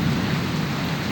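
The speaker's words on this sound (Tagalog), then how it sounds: "Yan na, lakas na ng ulan, lalaki." Dense, loud roar of heavy rain pouring down in a thunderstorm, a continuous wash of hiss with deep low rumble underneath and no voices.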